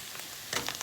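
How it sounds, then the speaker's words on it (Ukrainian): Garlic fries in oil with a soft, steady sizzling in a pan, close by, with a few brighter crackles and pops near the end. "як тільки нам смажиться чесник"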